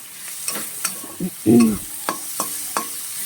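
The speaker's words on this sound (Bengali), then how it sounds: "এই চিংড়ি মাছের সাথে পেঁয়াজটা পুরোপুরি ভেজে নিলাম" Onions fry with shrimp in a pan for a spinach dish: a soft constant sizzle broken by regular scraping stirs and one louder burst of frying midway.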